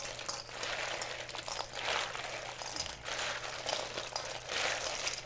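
Water boiling hard in a cooking pot for shrimp gives a steady, close bubbling hiss that runs without a break, swelling and easing slightly in waves.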